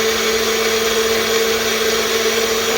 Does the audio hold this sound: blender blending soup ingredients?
yes